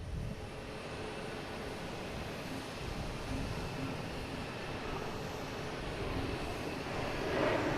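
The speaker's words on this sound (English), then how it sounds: "we have Lufthansa taking off a 9" Lufthansa jet airliner taking off on runway 9 at Boston Logan, a faint, distant rumbling engine roar that builds gently toward the end, heard alone.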